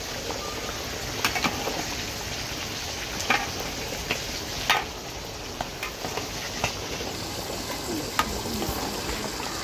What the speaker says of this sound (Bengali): এভাবেই কিছুক্ষণ পরপরই নেড়ে চেড়ে দিতে হবে।